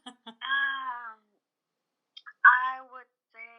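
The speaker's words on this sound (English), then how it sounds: "the cats here in the house are disturbing." Cats meow indoors in a house, two drawn-out, clear meows separated by a pause, with short chirps before each, loud and close with no speech.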